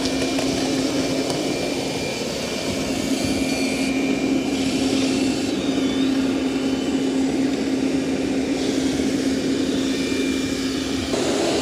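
Robot vacuum-mop, a Roborock Saros 10R or Dreame X50 Ultra, vacuums and mops a floor at once with a steady, close whirring drone and a constant tonal hum, no talk.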